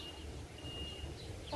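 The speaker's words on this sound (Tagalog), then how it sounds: "May manok sila dito." Chickens cluck softly over a steady low background hum, a few short calls scattered through the moment, fairly faint and not close.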